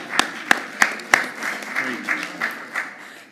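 An audience at a university system Board of Regents meeting applauds, with a few sharp claps early on giving way to a steadier spatter of clapping that fades over a few seconds.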